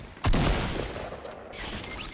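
Gunfire in the Fortnite video game, a loud sharp shot cracking close by followed by a ringing rumble and a second, softer burst, with no talk over it.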